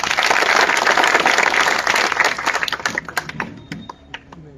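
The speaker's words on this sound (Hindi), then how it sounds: "मैं कहता हूं कि आप ताली बजाकर उनका स्वागत करें।" An outdoor village gathering's crowd applauds to welcome the village sarpanch, a loud dense burst of clapping that thins into scattered individual claps and fades out.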